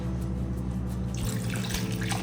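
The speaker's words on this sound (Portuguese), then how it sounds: "Deixa eu colocar mais água." Tap water running into a cooking pot while preparing lamb ribs, a steady close splashing gush that grows brighter and fuller partway through, with no talk.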